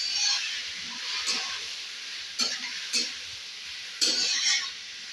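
Tilapia and bottle gourd curry is stirred in a frying pan: a steady close sizzle with scraping spoon strokes at irregular intervals, no talking.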